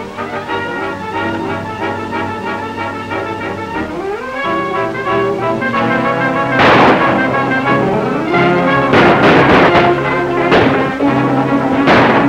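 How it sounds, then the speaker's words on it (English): Gunfire in a 1944 Western film starring Buster Crabbe rings out as a few sharp, loud shots scattered through the second half, ringing over a continuous orchestral score. "When you hear my shot, open fire."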